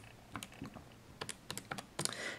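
Quiet button presses on a calculator, a dozen or so soft, irregular clicks tapped out in quick succession, close but faint.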